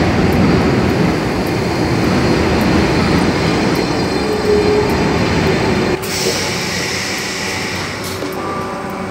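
A Paris metro train runs with a loud, steady rumble and rushing rail noise inside the car, shifting slightly as it moves on, with no one talking.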